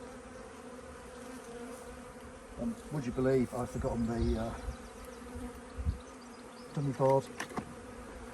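Honey bees buzz steadily around an open hive during an inspection, a constant low drone beneath a voice talking intermittently close by.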